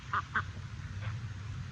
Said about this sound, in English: I'm hanging out with ducks today